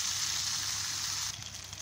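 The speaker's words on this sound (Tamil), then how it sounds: "மீடியம் ஃப்ளேமில் வச்சு வரங்க, ரொம்ப ஸ்டவ் ஃபாஸ்ட்டாக வைக்க வேண்டாம்" Fish frying in a pan over a medium flame, a steady bright sizzle with crackling oil that drops slightly in intensity near the end.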